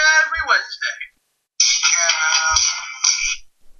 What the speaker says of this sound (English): Uh-oh, someone's calling you.